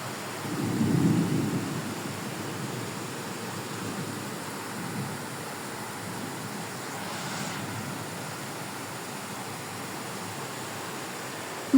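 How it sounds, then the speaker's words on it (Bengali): Heavy rain pours with a steady broad hiss while a deep roll of thunder rumbles early on, then the downpour continues evenly to the end. "বৃষ্টিতে চারিদিকে একদম অন্ধকার আর মেঘ ডাকছে জোরে জোরে, আর অনেক বেশি বৃষ্টি হচ্ছে"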